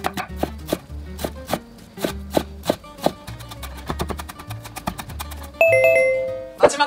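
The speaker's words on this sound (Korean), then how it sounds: "마지막으로 양파 다져주겠습니다" Knife finely mincing an onion on a cutting board, with quick, evenly spaced sharp taps in a steady rhythm, close and clear; a brief chime-like ring sounds near the end.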